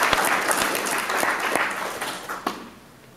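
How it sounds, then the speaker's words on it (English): Audience applause at a distinguished alumni hall of honor ceremony, full and close at first with sharp individual claps, then thinning and fading out toward the end. "Let's give Matt another round of applause."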